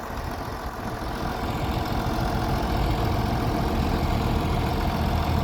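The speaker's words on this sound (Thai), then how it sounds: "นี่ครับ รถบดผสมข้าวโพดก่อน" A feed grinder-mixer engine runs steadily on a farm while grinding and mixing corn into animal feed, giving a loud, constant low rumble with a faint mechanical churn and no voices.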